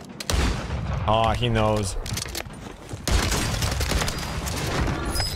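Rapid gunfire comes from an MTZ-762 battle rifle in a first-person shooter video game. It sounds in dense bursts through most of the clip, with a short pause near the middle, while a player talks over it.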